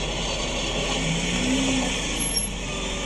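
Drivetrain noise from a used Nissan GT-R with a suspected transmission fault, a steady broadband whir and hum with a brief low tonal whine, continuous and close for about three seconds, with no talking.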